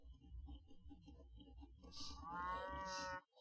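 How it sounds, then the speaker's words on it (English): Cattle lowing in a strategy video game, with a drawn-out harmonic moo rising near the end over a steady bed of game ambience. "I just still hear the sheep and the cows"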